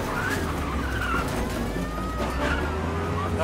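In the video game Mafia: Definitive Edition, a police car siren wails in rising and falling sweeps behind loud, continuous car engine noise and tire skidding during a chase.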